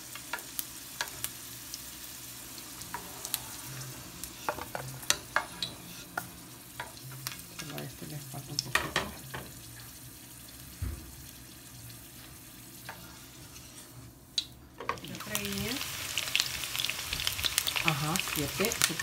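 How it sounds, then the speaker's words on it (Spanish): Ingredients frying in a pan for a Mexican-style ají salsa, with stirring clatter and scattered sharp sizzles and pops, a tap running briefly near the end; moderately close, no speech. "Se puse a freír para la salsita de estos tacos de pechuga"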